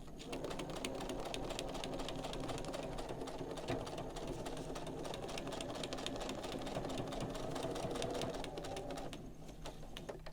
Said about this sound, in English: we'll just take this nice and easy as we sew along